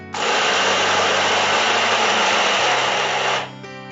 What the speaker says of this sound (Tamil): மிளகு, 1/2 மணி நேரம் ஊற வைத்த உளுந்து, தேவையான அளவு உப்பு, இது சேர்த்து இப்ப அரைக்க போறாங்க